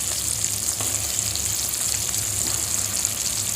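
Steady sizzling and crackling of stuffed eggplants frying with softened tomatoes in a hot pan, continuous and close, with no talking.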